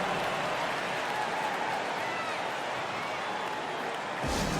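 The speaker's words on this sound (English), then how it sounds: "Please give a big round of applause for your Hawks new dance team." A large basketball arena crowd in NBA 2K25 applauds and cheers in a continuous roar during a Hawks timeout, loud and sustained, swelling slightly near the end.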